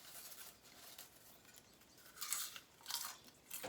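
Crunchy snack topped with roasted garlic and onion seasoning being bitten and chewed close up, a few quiet crisp crunches in irregular bursts over near silence.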